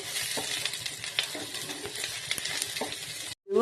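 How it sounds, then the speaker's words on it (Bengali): Eggplant pieces fry in a pan for a Bengali mustard greens dish, with a busy sizzle punctuated by repeated spatula scrapes and taps, then a brief cut to silence before the sound returns. "এবার দিয়ে দিলাম বেগুন বেগুন দিয়ে বেশ একটু নাড়াচাড়া করবো"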